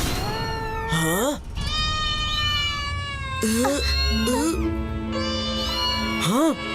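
Cartoon cats meow in a loud chorus during a cat attack, rising and falling wails overlapping one another in close succession, the voices themselves imitating the meows.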